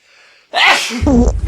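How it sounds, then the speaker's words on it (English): A single loud sneeze, preceded by a brief sharp inhale, close and abrupt. "I'm gonna sneeze."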